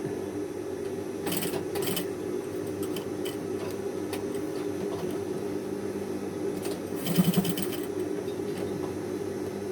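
A sewing machine stitching a men's shirt cuff, a steady mechanical hum with rapid ticking stitch runs in short bursts, close and continuous with no talk.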